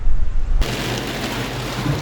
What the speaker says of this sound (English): it started raining, which means I can't do an outdoor vlog